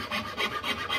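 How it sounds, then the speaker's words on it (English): A hand rasp filing wood on a cane chair frame, four quick rhythmic scraping strokes, close and fairly quiet, with no voices. "And this is just a good rasp, is what they call that tool. And it just removes wood pretty effectively, more than a file"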